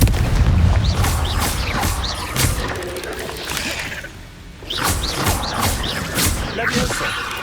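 Confringo fire spell explosions in Hogwarts Legacy, repeated booming blasts with crackling bursts in quick succession, a brief lull, then more loud impacts amid busy game effects.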